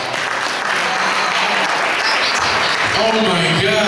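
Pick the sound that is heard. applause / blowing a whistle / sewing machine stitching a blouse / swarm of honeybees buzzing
applause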